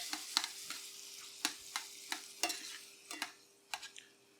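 Squid sizzles in olive oil in a pan with a steady hiss, broken by sharp crackles and pops every half second or so, close by, with no talking.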